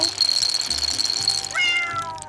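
A cat meows once near the end, a rising nasal cry following a steady high whine in the background.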